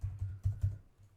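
A few soft taps on a computer keyboard, about four quick keystrokes in a short burst, quiet and close.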